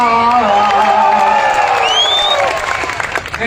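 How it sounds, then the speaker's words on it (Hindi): A large outdoor election rally crowd in Firozpur, Haryana claps and cheers loudly and steadily, a dense wash of applause with scattered whoops and shouts. "ताली अगली लाइन पे बजा ली, एडवांस पेमेंट चल रहा है"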